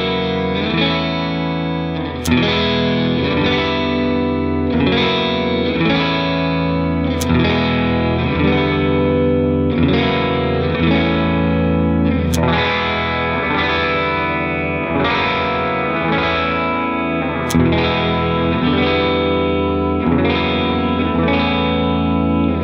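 An electric guitar plays a repeating riff through a clean amplifier tone using the middle pickup alone. Sustained, ringing chords shift in a steady cycle, loud and continuous, with no voices.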